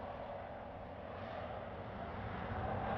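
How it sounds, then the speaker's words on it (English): A Boeing 777-300 climbs away after takeoff, its jet engines producing a steady, broad roar that holds at a moderate distance without changing much. "Moments later, the main landing gear also leaves the runway, and the aircraft becomes airborne."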